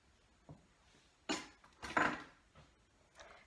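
Baking powder being stirred into apple cake batter in a bowl, a few scattered utensil clinks and scrapes against the bowl, two or three louder knocks in the middle, close and otherwise quiet.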